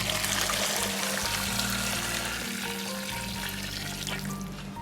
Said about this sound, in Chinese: 然后倒入汆烫的原汤